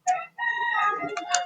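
Rooster crowing close by, one short call followed straight away by a loud, drawn-out crow with a rough, rising finish.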